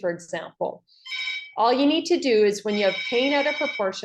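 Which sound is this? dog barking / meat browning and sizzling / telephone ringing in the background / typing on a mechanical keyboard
telephone ringing in the background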